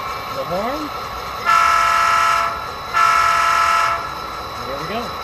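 Horn of an Athearn SD40 model diesel locomotive sounds in two sustained blasts, each about a second long with a short gap, loud and close, with faint sliding tones before and after.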